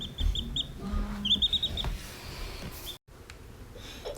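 Young Red Ranger meat chicks, still yellow, peep in quick high chirps close by on a farm, with some soft rustling and low background noise.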